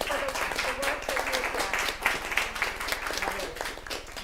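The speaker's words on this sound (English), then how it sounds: "we can't shake your hands, but we can clap for the work that" School district board members and staff at a meeting clap together in a steady patter of applause, with a person speaking over it.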